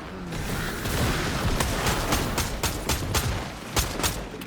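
Rapid bursts of gunfire from the Fortnite video game crackle through a steady loud din, with sharp shots repeating close together for the whole stretch and no voices over them.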